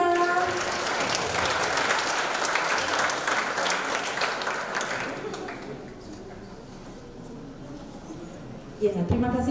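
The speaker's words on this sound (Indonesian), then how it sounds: "kita kasih tepuk tangan yang meriah" An audience at an Indonesian mental health talk applauds warmly, a dense burst of many hands clapping that holds strong for several seconds, then thins and fades before a voice returns near the end.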